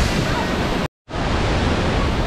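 Hogenakkal waterfall on the Kaveri river in dense forest, a loud, broad, unbroken roar of rushing water heard close by, cut by one brief silent gap.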